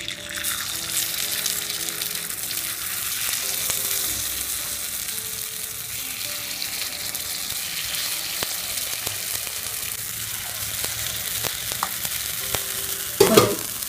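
Millet paniyaram batter sizzles in an oiled paniyaram pan, a steady close frying hiss with faint bubbling, ending in a short metallic clatter.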